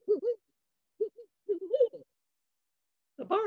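A person imitates the barred owl's "who cooks for you" hooting call by voice, giving a few short rhythmic phrases separated by pauses, close and fairly quiet.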